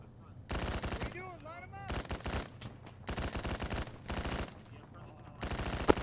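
Machine-gun fire at descending paratroopers in the video game Arma 3 rips out in several long, loud sustained bursts separated by short pauses, with brief voice chatter between them.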